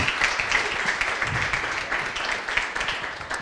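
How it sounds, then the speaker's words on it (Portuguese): Applause for Daniela do Tropê at a live gathering, a moderate, uneven spattering of hands clapping in a room, fairly close and steady for a few seconds with no clear talk over it. "pode aplaudir a Daniela do Tropê"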